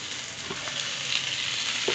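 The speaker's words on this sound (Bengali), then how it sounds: "ভেজে রাখা মাছটা দিয়ে আমি আলতো হাতে এগুলো পেঁয়াজ আর মরিচের সাথে ভালো করে মিশিয়ে নিচ্ছি" Fried tilapia pieces are stirred gently in a pan with browned onions and chillies, giving a steady close sizzle with soft scraping stirs and no talking.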